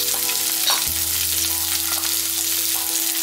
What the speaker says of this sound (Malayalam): ഇനി നമുക്കിതിലേക്ക് നമ്മൾ എടുത്തു വെച്ചിരിക്കുന്ന 1 സവാള ഇതുപോലെ കട്ട് ചെയ്തത് നമുക്ക് ഇട്ട് കൊടുക്കാം.